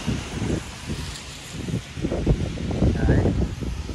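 Wind from typhoon Kong-Rey buffets a small town in Taiwan, blowing in uneven, rumbling gusts that swell and fade against the microphone, with a faint steady hiss underneath and no voices.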